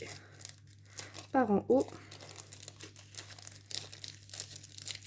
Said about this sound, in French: on n'a pas d'ouverture facile, donc on va le couper